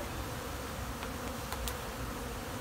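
Robber honey bees swarming around an empty hive super outdoors, a dense, constant buzzing drone with no pauses, fairly loud and close, with no voices over it.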